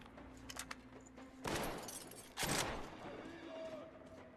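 Two loud, broad bursts of rapid gunfire in the Metro Exodus video game, each lasting about a second, with quieter clicks and ambient game noise between and after them.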